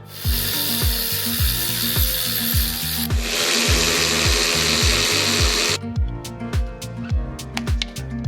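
Ratchet loosening the upper clamp on the plastic charge pipe of an Audi RS3, a rapid run of clicking strokes with steady rhythm, close and loud, with a harsher grinding texture through the middle and sparser clicks at the end.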